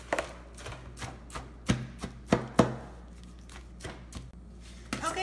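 A gluten-free vegan granola nut bar mixture is worked in a bowl, giving a series of close, irregular sticky thumps and scrapes with a few sharper knocks in the middle, no talking.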